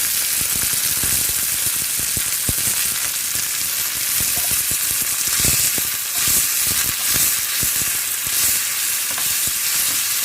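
Chopped tomato fries in a hot pan for an aloo rava dosa side chutney, giving a dense, continuous sizzle with faint stirring clicks and no voices.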